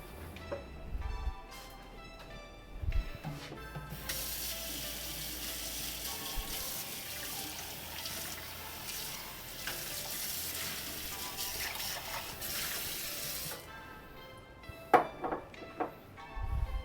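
Tap water runs into a sink during rinsing, a steady close gush of several seconds flanked by clinks and handling sounds of dishes.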